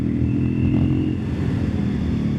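A Triumph Scrambler 400X motorcycle at speed, its engine a steady close drone with wind rush and no clear braking change, no one talking.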